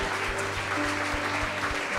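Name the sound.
applause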